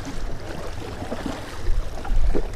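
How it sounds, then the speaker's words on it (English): Strong wind gusting over a wide lake at a wharf, with choppy waves and whitecaps churning: a constant rough rushing roar that swells louder toward the end, with no talking. "It's really windy here."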